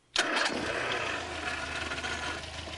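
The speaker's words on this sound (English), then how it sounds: "It starts at a flick of a switch." An early internal combustion car engine cranks and catches abruptly after a brief silence, then settles into a steady, moderately loud idle.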